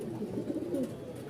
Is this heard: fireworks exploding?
no